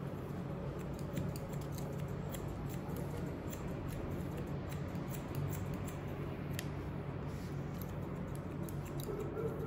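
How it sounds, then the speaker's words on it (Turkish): Scissors snipping hair in a barbershop during a classic haircut, layering the hair upward; faint, rapid repeated clicks run steadily under a low background hum with no talking. "Bu katı da makasla veriyoruz."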